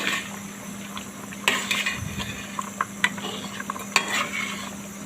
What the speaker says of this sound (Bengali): আবার একটু নিচ থেকে নাড়াচাড়া করে দিয়ে দিলাম